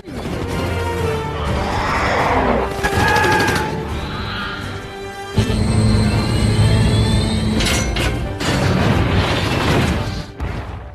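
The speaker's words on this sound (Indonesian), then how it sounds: "Pesawat kemudian hilang keseimbangan dan hancur" A loud, sustained rumble of crashing and tearing debris, with metallic screeches, booming impacts and a high whine, dense and chaotic throughout.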